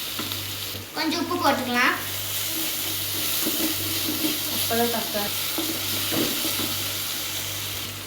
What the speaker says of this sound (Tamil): நம்ம தக்காளி போட்டுக்கலாம். நல்லா வதக்கிக்கலாம்.